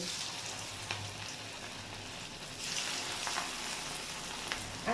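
Potato chops fry in hot oil in a wok with a steady crackling sizzle, lightly punctuated by faint pops and small clicks, with no talking.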